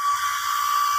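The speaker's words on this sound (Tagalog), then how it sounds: "tamang blower lang sa aso na, ano, ginroom namin" A pet hair blower dries a freshly groomed dog, giving a steady, loud high-pitched whine of rushing air that runs unbroken throughout.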